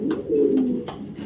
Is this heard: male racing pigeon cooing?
yes